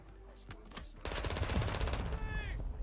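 Rapid automatic gunfire in a shooter video game, a loud sustained burst of shots after a few sharper single reports, with a faint voice at the start.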